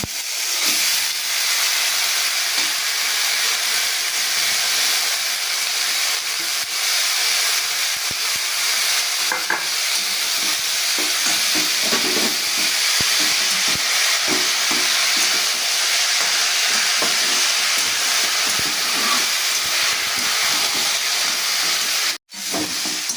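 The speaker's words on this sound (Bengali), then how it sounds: "এবার আমি সেদ্ধ করে রাখা মোচাগুলো আলুর মধ্যে দিয়ে দিচ্ছি।" Boiled banana flower is stirred into potatoes frying in a pan, producing a loud, continuous close sizzle and hiss with scraping stir sounds running through it.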